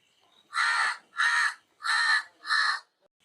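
Crows caw four times in a steady, evenly spaced series, each call loud, harsh and close, with near silence between the calls and no other sounds.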